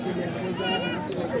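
At a goat market, a goat gives a short wavering bleat nearby, half buried under someone talking and the surrounding chatter.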